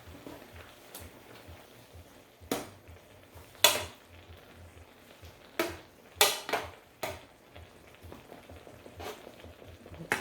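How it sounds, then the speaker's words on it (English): Enoki mushrooms are stirred into miso broth in a pot, heard as several sharp clinks and scrapes of a utensil against the pot, spaced irregularly over quiet background with no talking. "Stir it around a little bit"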